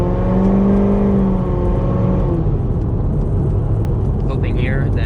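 A 700 HP supercharged Corvette pulls hard on the highway, its engine note climbing loud and close before easing into a steadier roar with faint high whine near the end.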